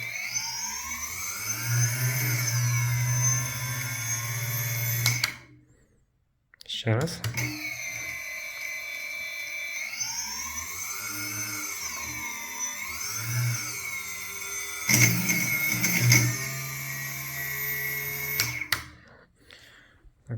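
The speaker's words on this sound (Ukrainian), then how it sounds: "Двигуни запустилися. Будемо пробувати піддати газу." Motors of a homemade FPV drone whine up and down with the throttle in tonal pitch sweeps, cutting out briefly and then revving again, close and loud, with a brief spoken word partway through.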